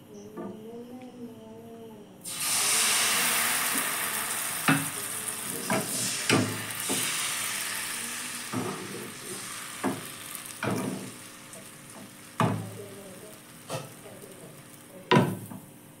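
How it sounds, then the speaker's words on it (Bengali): Paratha batter hits a hot oiled kadai and bursts into a loud, steady sizzle. Sharp clinks and scrapes of a utensil repeat over the frying. "এবার আমি এই কড়াইতে 1 কাপ করে ব্যাটারটা দিয়ে পরোটাগুলো ভেজে নিব।"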